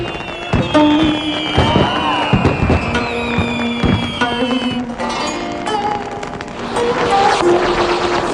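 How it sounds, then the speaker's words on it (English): Fireworks bursting during a celebration in Japan: repeated loud booms and crackling pops layered over one another, with whistling rising trails, continuous for the whole stretch. "Japan has a tremendous tradition of fireworks, and they shoot them off on every possible occasion."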